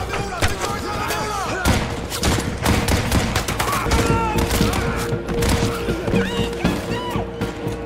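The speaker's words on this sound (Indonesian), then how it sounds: "Akhirnya kontak senjata pun terjadi." Dense gunfire in a film firefight, with rapid overlapping shots and bursts like machine guns and artillery thumping almost nonstop, loud and close, under music and effects throughout.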